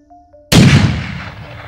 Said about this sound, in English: I have enough of that trigger in my fingers so that when I squeeze my hand, it's kind of squeezing the shot off